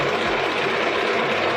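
A domestic sewing machine runs steadily while stitching along a quilt seam, a close, even mechanical whir with a faint low motor hum underneath and no talking.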